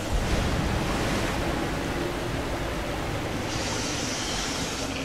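Rushing water in the Rise of the Tomb Raider video game, inside the Bath House tomb, roars as a steady, dense wash of noise with no voices.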